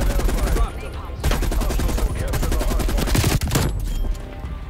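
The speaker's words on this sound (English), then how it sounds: "RPD light machine gun" On the Nuketown map, an RPD light machine gun fires long, loud, rapid bursts that go on for several seconds and break off briefly between them.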